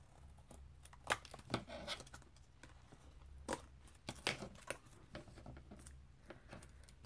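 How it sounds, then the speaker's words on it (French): Scissors cutting paper for a photo album craft, several crisp snips and shearing strokes spaced irregularly against a quiet background, close and moderately soft. "Ça va marcher avec les ciseaux comme ça"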